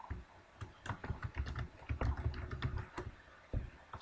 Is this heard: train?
no